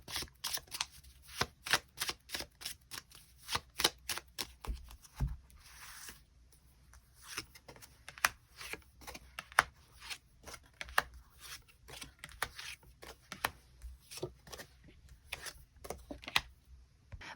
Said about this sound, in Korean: 1번 분들 추가 카드로 일별로 월요일부터 일요일까지 어떤 하루를 보내게 될지 추가 카드 뽑아보도록 하겠습니다